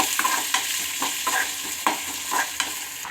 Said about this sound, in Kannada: ಜೀರಿಗೆ ಒಂದು ಈರುಳ್ಳಿನ ಫ್ರೈ ಮಾಡ್ಕೋಬೇಕು